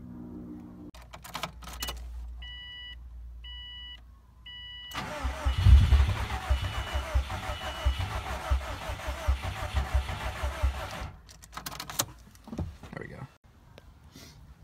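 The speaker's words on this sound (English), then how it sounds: "let's go ahead and try it" A Subaru WRX being started for the first time after its fuel pump relay was primed: the starter cranks in bursts, then the engine catches and runs roughly for several seconds before cutting out, with more short cranking attempts after.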